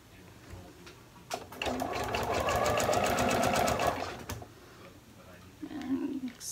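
A sewing machine stitches elastic onto fabric in a quick, steady mechanical run of about three seconds, loud and close, with faint quieter handling sounds before and after.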